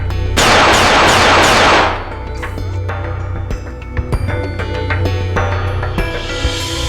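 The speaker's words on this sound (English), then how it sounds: "Gunshots rang out during the declaration, and the police officers were shot." In the video game Collar X Malice, a loud burst of rapid gunfire opens, then scattered single shots and clatter follow over a low steady hum.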